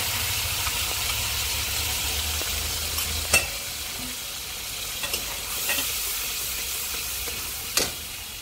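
Tomato paste sizzles loudly in a hot pan for a pabda fish curry, with a steady frying hiss broken by a few sharp clinks and scrapes of stirring.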